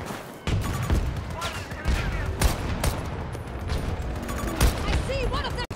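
Dense video-game gunfire from an enemy shooter, bursts and single shots crackling loudly and near, layered in a busy battlefield mix with speech-like voice activity.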